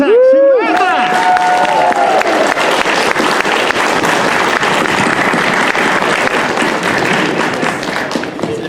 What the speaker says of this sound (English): How about a massive round of applause